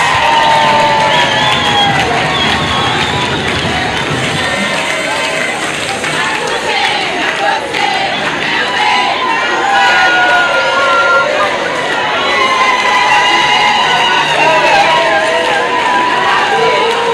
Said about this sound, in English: A big round of applause for Seychelles